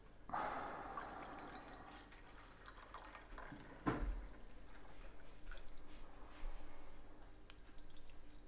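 Hot water from a teapot being poured steadily for tea, a soft continuous trickle with small splashes and drips, quiet and close, no one speaking.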